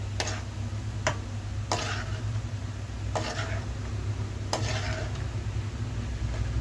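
A spoon stirs paneer kurma curry with homemade paneer in a pan, giving about six sharp, irregular taps against the metal over a low, steady simmering hiss.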